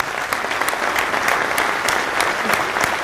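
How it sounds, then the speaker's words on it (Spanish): Audience applause at a panel discussion, steady continuous clapping with a few sharper individual claps standing out, lasting about three seconds. "Creo que merece un aplauso lo que vimos"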